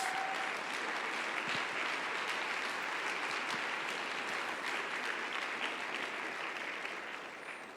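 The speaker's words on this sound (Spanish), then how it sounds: "Dale un aplauso al Rey de Reyes." Congregation applause during a Sunday church sermon, a steady, dense wash of many hands clapping from the room, sustained evenly for several seconds before tapering off slightly at the end.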